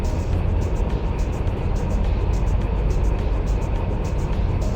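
Diesel switcher locomotive engine, like an SW1500, idles in the Derail Valley game with a steady low rumble and rattling drone that stays loud and constant throughout.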